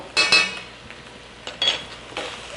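Metal utensil clinks and scrapes against a pan as chili paste is mixed into a Japanese eggplant stir-fry, with a few sharp close clanks spaced apart and quiet scraping between.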